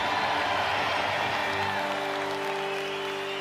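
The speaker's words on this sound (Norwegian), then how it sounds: "Og så gir vi hele blåserekka en skikkelig ekstra applaus." A concert audience applauds the brass section at a Royal Albert Hall show, with steady dense clapping from a large crowd throughout and a sustained musical tone beneath it.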